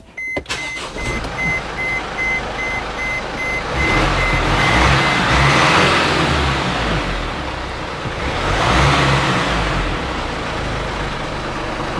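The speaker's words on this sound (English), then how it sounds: "Let me start the engine." Mercedes Sprinter van with an AdBlue metering valve fault, its engine cranking and catching, then idling and swelling through two revs, with a repeating warning beep early on and no talk.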